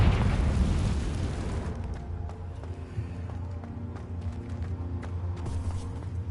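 A Confringo blasting spell explodes in Hogwarts Legacy: a loud burst at the start that decays over a second or two, followed by quieter low rumbling and scattered small impacts.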